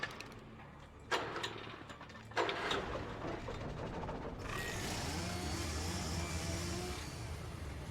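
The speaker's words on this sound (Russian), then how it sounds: "Там пила." A running saw inside the Alan Wake game, a steady mechanical buzzing drone that enters partway through and continues loudly after a couple of sharper clanks, with no talk.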